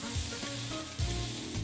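Beef slices sear in a hot frying pan with a steady, close sizzle, broken by a few soft bursts and crackles as the fat spits.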